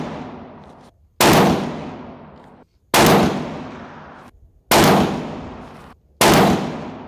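A 6.5 Creedmoor RPR rifle with a new 24-inch Krieger barrel fires four loud, sharp shots spaced roughly one and a half seconds apart, each followed by a short fading echo.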